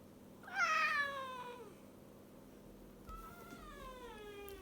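A cat named Beulah meows twice, a loud drawn-out meow followed after a pause by a softer, shorter one, both close by in a quiet room while tuna is offered.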